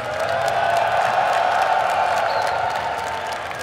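A large audience roars and cheers at the Evo 2023 fighting game tournament after a King of Fighters XV championship win, a dense, steady wall of crowd noise filling the whole stretch with no distinct voices standing out.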